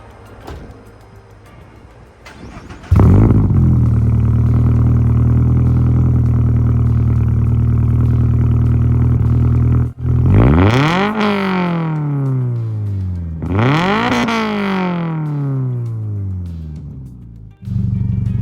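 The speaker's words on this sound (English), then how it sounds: "let's get this car on the ground, fire it up, do the cold start, some revving, all the good stuff, all the sounds you want to hear." A 2022+ Subaru BRZ / Toyota GR86 with a titanium exhaust cold-starts with a loud bark into a high, droning idle, then revs hard twice, each rise and fall loud and close.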